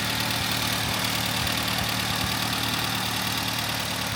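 A 1989 Volvo 740 Turbo sedan's engine idles steadily and smoothly, a close, even mechanical hum with a faint rapid ticking texture and no voices over it.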